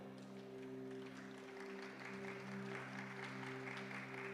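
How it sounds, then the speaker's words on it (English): Applause for the South African team at the Pan African Mathematics Olympiad 2023 award ceremony, a steady, moderately loud clapping from the audience lasting throughout, with a constant electronic hum beneath it. "A round of applause for South Africa."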